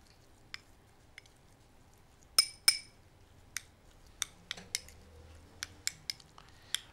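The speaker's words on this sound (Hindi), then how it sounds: "कॉफ़ी डालने के बाद जो है हम इसको अच्छे तरीके से मिक्स कर लेंगे" A spoon clinks sharply against a bowl while coffee is stirred into a homemade face pack paste. The taps are scattered and fairly close, with a couple of louder ringing knocks among lighter ones, and no voices.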